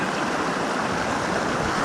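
A snowy mountain creek at Mount Rainier rushes continuously nearby, a steady broadband wash of flowing water with no voices.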